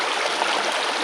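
Creek water rushes steadily over a fishable stretch of a trout stream near Adelaide, a close, even wash with no pauses and no voices.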